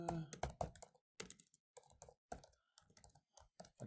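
Quick bursts of typing on a computer keyboard, crisp close key clicks in short clusters separated by brief pauses, quiet overall.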